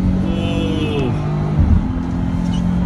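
A van with a 3.0L Duramax diesel accelerates at full throttle, its engine note climbing steadily from inside the cabin, loud and continuous with road and wind noise, and some chatter mixed in.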